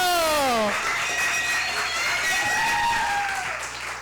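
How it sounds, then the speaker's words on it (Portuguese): Applause for the circus chair at a sectoral election plenary: a crowd claps continuously, with whoops and cheering voices rising over it, before the clapping trails off. "Eu queria pedir uma salva de palmas para a nossa cadeira do circo!"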